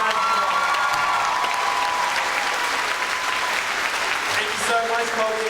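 Audience applause at a Year 12 and 13 school awards ceremony, loud dense clapping from a full hall throughout, with a few voices and light cheers mixed in underneath.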